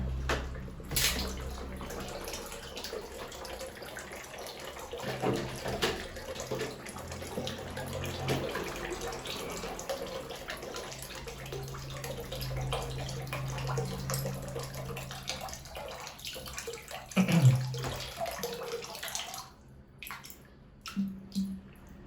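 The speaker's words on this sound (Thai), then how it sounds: "เราเทน้ำออกกันนะ" Water is poured out of an electric water gun, splashing and trickling steadily for a long stretch with occasional drips and gurgles, close by and fairly quiet.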